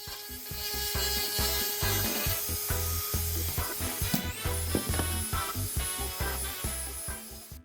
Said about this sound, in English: And this is what happens if you lose control of your Dremel.